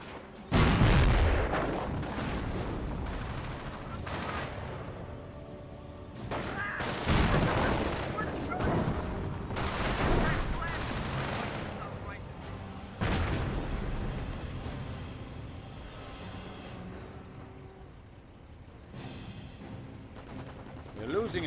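Gunfire from the game Company of Heroes, a Wehrmacht sniper among the combatants: repeated sharp shots, bursts and heavier booms over a continuous battle din, with someone talking throughout.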